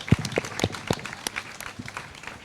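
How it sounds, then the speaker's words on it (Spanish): Audience applause at a tribute event honoring Luis Alemany, Yolanda Arencibia and Andrés Sánchez Robayna, scattered and fairly soft claps with a few louder nearby hits that thin out toward the end. "un aplauso cariñosísimo, 2 aplausos"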